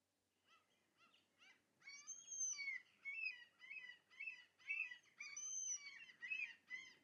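Seagull calls used as a sound effect, a rapid series of high, squealing cries that start softly and then come in dense repeated bursts, clear over near silence.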